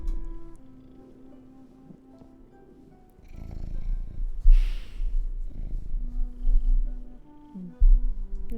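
Close, low, rhythmic purring from a cat, steady rumbling pulses that swell and fade over several seconds, with soft background music underneath.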